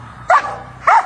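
A dog barks twice, loud and close, with two short sharp barks about half a second apart over a quiet background.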